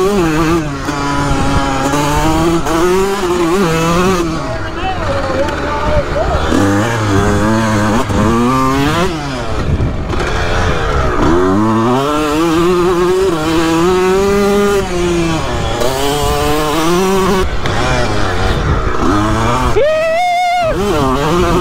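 A racing motorcycle engine drones loud and close throughout a race, with pitch climbing and falling as it revs through the gears, and a brief sharp roar near the end.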